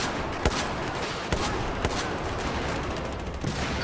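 An XM25 launcher fires in Battlefield 4: a handful of sharp, separate blasts, several spaced out over a few seconds above a steady, noisy combat background of game action, with no talk.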